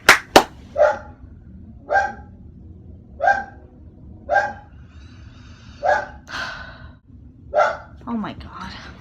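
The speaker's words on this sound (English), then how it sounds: "I have trapped the dog." A pet dog barks indoors in a steady series of sharp, close barks spaced about a second or two apart, with quiet room tone between them.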